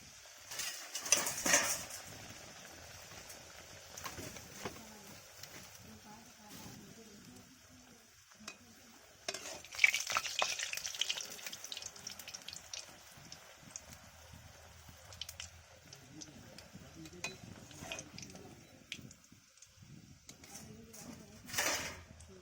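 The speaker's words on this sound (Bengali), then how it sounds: "তেলটা গরম হয়ে গিয়েছে, এবার আমি একটা একটা করে লুচি দেব" Palm-flavoured luchi breads frying one by one in hot oil, a faint continuous sizzle with occasional louder bursts of bubbling and a few soft handling sounds.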